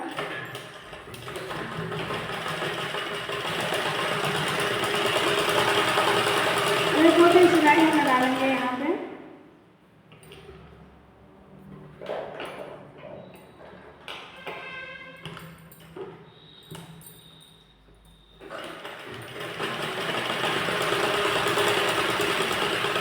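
A sewing machine stitching a blouse runs steadily for several seconds, stops for a quieter stretch of small handling sounds, then starts up again and hums on to the end.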